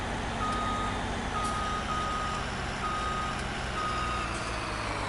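A vehicle reverses toward a semi trailer on a farm, its steady backup beeper pulsing loudly and evenly over a continuous engine rumble, with no talking.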